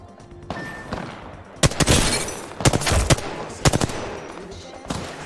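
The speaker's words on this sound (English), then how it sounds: "there's more people shooting at me" Bursts of automatic gunfire in the Apex Legends battle royale game, several loud clustered volleys separated by short gaps over a quieter game background.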